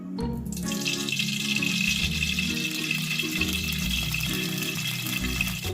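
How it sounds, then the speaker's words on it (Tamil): Coconut oil poured into a kadai on the stove, a steady liquid stream with a continuous splashing, trickling texture at a constant, fairly loud level from start to finish. "தேங்காய் எண்ணெய் ஊற்றிடலாம்."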